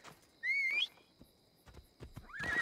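A horse neighing in the video game Assassin's Creed Odyssey: two short, close whinnies, one near the start and one at the end, with soft hoof-like thuds in between.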